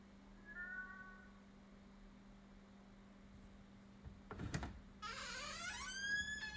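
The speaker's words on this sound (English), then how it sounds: "The cat's getting louder." A cat meows several times, first faintly and then in louder, drawn-out wails, with a sharp bump of noise between.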